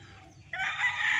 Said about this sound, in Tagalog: So andito yung mga manok.